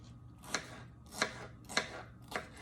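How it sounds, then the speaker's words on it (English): A knife chops through a small tomato on a cutting board, four crisp, evenly spaced cuts roughly every half second, close and quiet against a faint background hum. "All right, so I'm chopping up another tomato."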